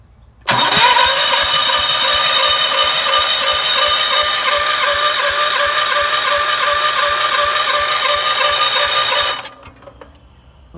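Wheel Horse garden tractor engine cranking on its electric starter: a loud, close, steady whirring churn that runs unbroken for about nine seconds, then cuts off, with no talking.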